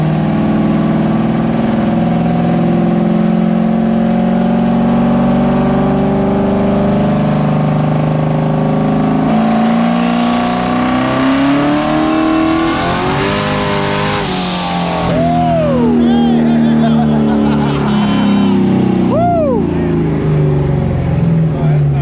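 Ford Coyote V8-engined cars roar and rev hard on a dyno at a crowded shootout event, a loud continuous engine drone rising in pitch with brief whistles near the end, people talking underneath.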